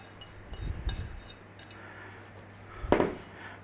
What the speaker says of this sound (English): I'm just going to transfer it to this bowl so I can chuck it about a bit and then put it back in the ceramic bowl